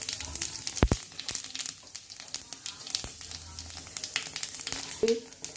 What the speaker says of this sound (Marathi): इथे मी तेल टाकलेलं आहे इथे मी जिरे टाकत आहे एक चम्मच